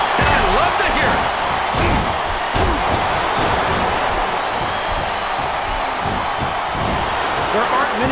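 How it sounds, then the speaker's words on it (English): A capacity arena crowd in Smackdown vs Raw 2007 gives a constant loud roar with thuds from the ring, while commentary talks over it. "This capacity crowd is making their opinions known tonight."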